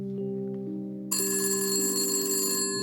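An old telephone bell rings loudly in one sustained burst, starting after a quiet stretch with a low hum, close and clear with no talk over it.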